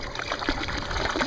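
Water runs from a garden hose into a backyard pool in a short burst of trickling and splashing, fairly close and steady, with no voices over it.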